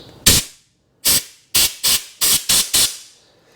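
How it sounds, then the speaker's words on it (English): Compressed air blasting through a Dellorto carburetor on a Ducati 900SS bevel, seven loud, sharp hissing bursts, each under a second and separated by brief gaps, with the later ones coming in quick succession. "Compressed air."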